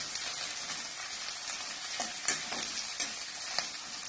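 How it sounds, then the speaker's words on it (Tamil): Sliced onions and curry leaves frying in a pan for egg kothu parotta: a soft, steady sizzle with a few light scrapes and taps of a stirring spoon, close and fairly quiet. "இப்போ இது எல்லாத்தையும் நல்லா வதக்கிக்கலாம்."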